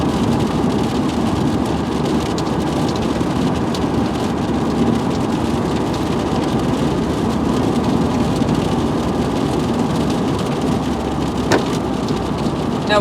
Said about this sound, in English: I was really hoping that I could avoid this rain, but unfortunately here we are.